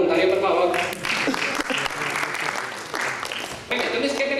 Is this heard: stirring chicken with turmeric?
no